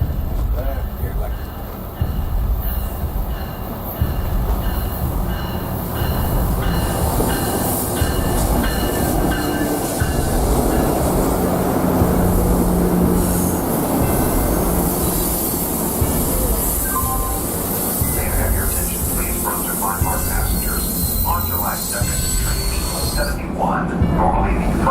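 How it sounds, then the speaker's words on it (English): A train rolls through Union Station close by, a loud continuous rumble of wheels on rails with clattering and occasional squeals, while people talk over it. "Hold on tight. Train."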